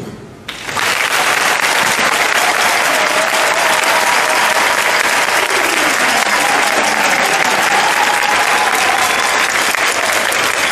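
Loud, sustained applause from a large crowd fills the space throughout, celebrating a parish's 50th anniversary in Abidjan, with dense continuous clapping after a brief quiet start.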